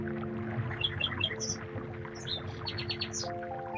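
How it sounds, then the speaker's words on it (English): Synthetic bird chirps from a video game in development play as short bright tweets scattered over a steady humming tonal background drone, no talk. "That bird sound effect is pissing me the fuck off."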